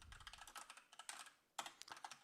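Fast, uneven clatter of keys on a computer keyboard while entering data into a spreadsheet, close and steady with a brief pause before another burst of keystrokes.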